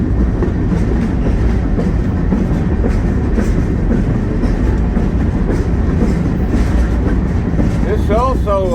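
A freight train carrying a cyanide tank car rolls through Illinois, giving off a loud, continuous rumble with rhythmic clickety-clack from the wheels and a squealing screech at the end.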